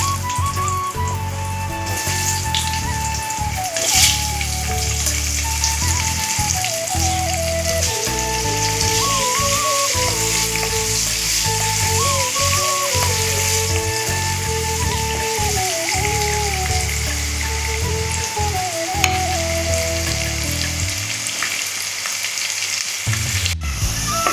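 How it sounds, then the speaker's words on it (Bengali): Loud, continuous sizzling of potatoes frying in hot oil for a jackfruit and chickpea dal dish, with a soft melody playing underneath throughout. "আলুগুলো ভাজা হয়ে গেছে"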